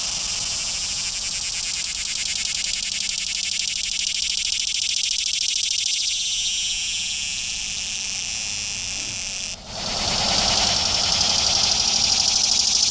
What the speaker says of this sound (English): Delaware annual cicada.